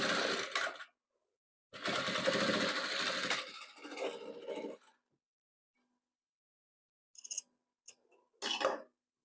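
Patchwork fabric squares being stitched on a sewing machine, two bursts of rapid close machine stitching separated by a pause, followed by silence and a few short clicks and handling noises.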